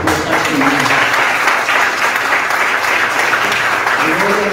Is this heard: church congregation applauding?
yes